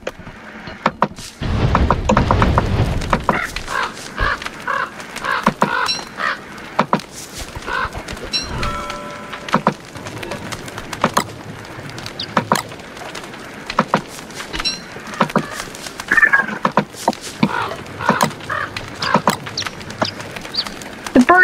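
Cartoonish birds squawk in repeated short calls in the game Don't Starve, mixed with clicks, thumps and game effects throughout.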